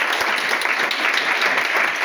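A seminar audience applauding to welcome newcomers, with steady, dense clapping from many hands filling the room throughout.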